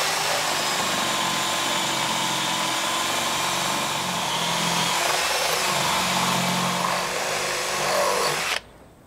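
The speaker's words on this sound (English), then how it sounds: "all the holes are drilled through our packers" A power drill boring 13 mm holes through timber packers on a pergola ribbon board, a steady, loud, continuous whine with a lower motor drone that runs for about eight seconds and then cuts off abruptly.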